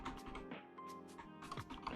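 Computer keyboard being typed on while entering file names during a coding session, a quick run of close, quiet clicking keystrokes with no voices.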